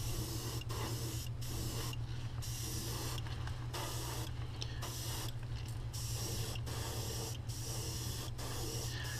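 An airbrush hisses in short repeated bursts while spraying paint onto a crankbait fishing lure, over the steady low hum of a running compressor set to about 15 psi, close and fairly quiet.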